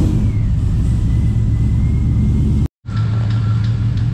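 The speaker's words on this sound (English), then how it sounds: "So I'm gonna fire it up real quick and see." A car engine, fitted with an MSD 2-Step launch control, runs loud and steady with a deep low rumble, cuts out for a split second, then catches again and keeps running close by.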